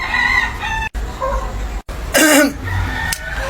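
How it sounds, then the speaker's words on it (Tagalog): A fighting rooster crows loudly nearby amid other clucking and throaty fowl calls, with brief abrupt cutoffs. "Yung panabong na manok."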